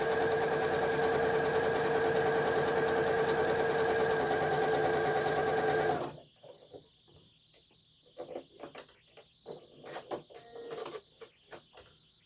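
A sewing machine runs steadily for about six seconds, a close, even whirring hum while stitching a straight seam on a table topper, then stops, leaving soft handling clicks and rustles of fabric.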